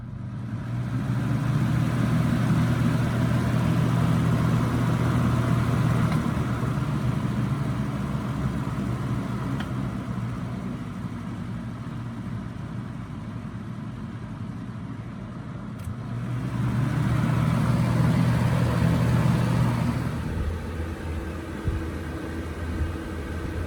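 A 1989 Lasko Model 4723 box fan with a metal motor runs steadily on high, giving a constant low hum and airy whoosh that swells briefly near the end as the speed setting changes, with no talk over it.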